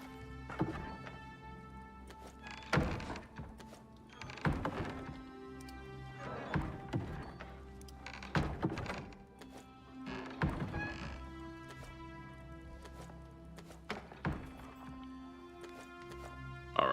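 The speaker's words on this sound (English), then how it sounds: "Let's grab some steel. Put it on the anvil. And repair my blade." A blade repaired with steel on an anvil in the survival video game Icarus, a series of irregular resonant thunks and metallic clanks over a quiet droning background, with no talk.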